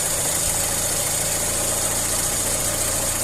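A VAZ 2108 car engine with a freshly adjusted Solex carburetor idles steadily, a loud, close, even hum with a faint rhythmic knock and no voices.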